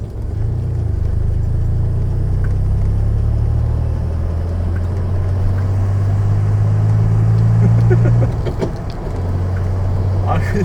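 A DeLorean DMC-12 with its rear-mounted engine drives along, a steady low engine rumble and road noise from inside the cabin, the pitch easing near the end as the car slows.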